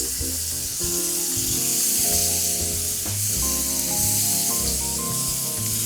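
Peach halves set cut side down on a heated grill pan sizzle and fry in a steady, close, continuous hiss with no talking.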